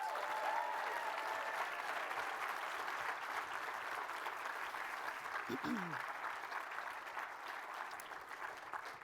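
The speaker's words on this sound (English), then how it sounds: "So let's give a round of applause for Dr. Mark Brackett." Sustained audience applause fills a conference hall at an opening session, steady and fairly loud across the whole stretch, with a few faint voices mixed in under the clapping.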